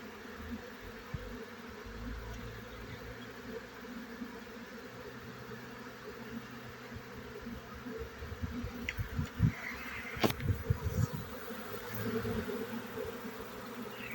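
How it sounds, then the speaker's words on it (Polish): A crowd of honeybees buzzes around a hive as a steady, dense drone, with louder close passes and a few sharp knocks toward the end. "tu jest mnóstwo pszczół. Widzicie ile tu jest pszczół?"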